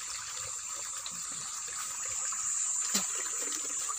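Water pouring and splashing during an outdoor morning bath, a steady, fairly quiet trickling stream with a small splash near the end.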